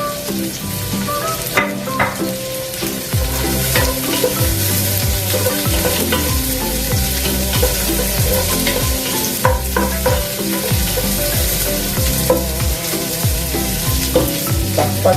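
Food frying in a pan with a spatula stirring it, loud continuous sizzle cut by repeated rhythmic scraping strokes, close up, no voices.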